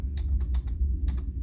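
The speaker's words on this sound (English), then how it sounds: "Go to google.com, and type in" Keys on a computer keyboard are tapped while typing a search, six or seven quick close clicks in two short bursts over a low room hum, with no talk.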